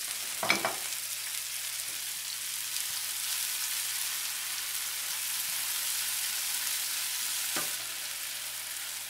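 Squid stir-frying with black bean sauce in a pan, a soft continuous sizzle with a sharp clank of utensil against pan near the start and another near the end, no talk.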